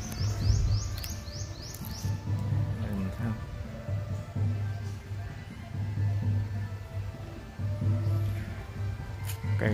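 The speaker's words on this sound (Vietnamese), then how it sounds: "từ phía xa đại gia đình có thấy có nghe tiếng chim kêu không ạ?" Birds chirp in short, bright bursts among tall old trees on the grounds of the Bat Pagoda (Mahatup) in Soc Trang, somewhat distant and intermittent, beneath a low steady hum and occasional outdoor noise.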